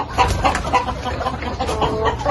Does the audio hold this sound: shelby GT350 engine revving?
no